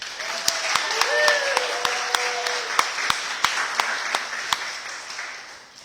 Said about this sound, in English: feel free to cheer and clap and everything